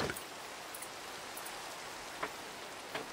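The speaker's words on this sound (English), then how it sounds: "Surprised it's raining already." Steady rain falling in the video game Minecraft, a dense even hiss of drops with a few sharper patters, alone and without talk.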